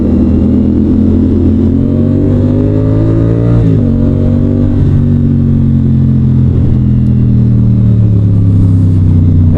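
A CF Moto 450SR-S motorcycle under way, its engine droning loudly and close with rising and falling revs, one shift-like dip midway, and continuous wind rush with no talk.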